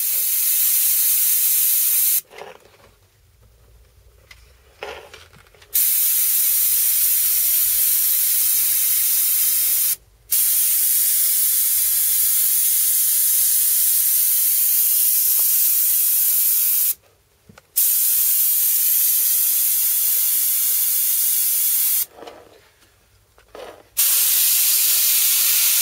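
Airbrush spraying paint onto a T-shirt featuring a Slipknot guitarist design, a steady close hiss in long bursts separated by several short pauses.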